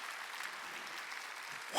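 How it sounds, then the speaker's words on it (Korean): Faint, steady applause from a church congregation during a Wednesday service patters throughout, swelling into a sharp louder burst at the very end. "깨달은 사람만 박수 치라고요."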